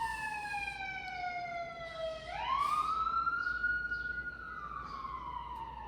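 A siren wails at a distance, its pitch falling, sweeping back up, then holding high as it carries faintly over a low background hum, with no one speaking.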